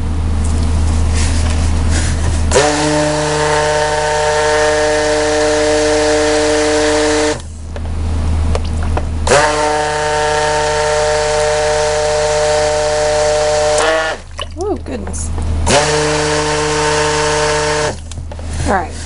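A stick blender whirring through soap batter as titanium dioxide is mixed in, loud close motor bursts with a steady whine, cut by short pauses and sloshing between runs.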